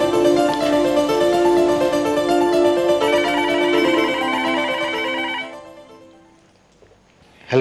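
A telephone rings loudly and steadily for about five seconds with an electronic ringtone, then stops, followed by a brief sharp sound at the end.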